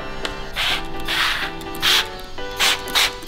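Several short hissing bursts of a water spray bottle misting paper, loud and close, coming in uneven pairs and singles with brief pauses between them.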